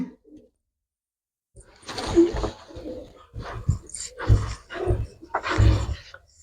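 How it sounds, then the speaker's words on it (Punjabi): Pigeons at a Punjabi pigeon sale, a red Chinese-type bird among them, coo in soft repeated low calls, mixed with someone talking nearby across most of the stretch. "ਲੋ ਬਾਈ ਜੀ ਕਰਾਉਣਾ ਸਾਨੂੰ ਅਗਲਾ ਕਬੂਤਰ ਚੈੱਕ"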